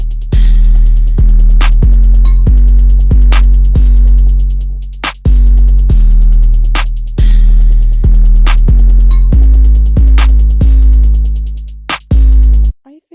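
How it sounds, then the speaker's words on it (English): A hard, harsh trap drum beat plays alone, loud and punchy, with deep booming kicks and sharp snappy hits in a steady repeating pattern before a brief stop near the end. "The drums on its own sounds like this."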